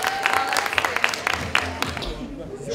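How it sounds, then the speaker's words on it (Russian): An audience applauds a jury's unanimous top marks at a New Year school show, steady clapping under a loud voice that speaks over it, fading near the end. "ваши аплодисменты"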